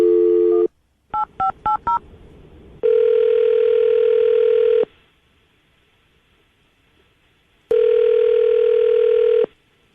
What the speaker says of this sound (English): All right, I'll call it right now.